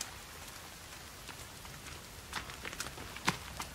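Rain in The Forest survival game, a soft steady patter with scattered sharper droplet ticks that cluster toward the end, heard alone without talk.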